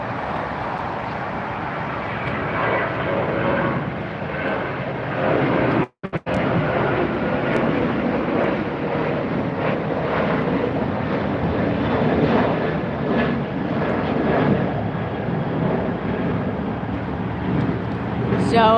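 An airliner approaches runway 25 left at LAX, a loud, continuous jet roar rising and holding across the field with a brief dropout, while someone talks in the background.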